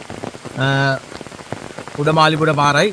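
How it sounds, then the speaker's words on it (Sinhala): Heavy rain pours steadily on the Daraniyagala–Udamaliboda forest trail, a dense, even hiss running beneath a voice speaking up close. "හොඳටම වැස්ස."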